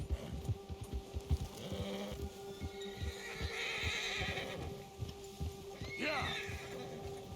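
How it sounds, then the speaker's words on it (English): A horse in Red Dead Redemption 2 whinnies in fright after being scared by a bear, with hoof clip-clops and rhythmic thuds beneath, close and fairly loud over game ambience and a background voice. "El oso ha asustado a tu caballo."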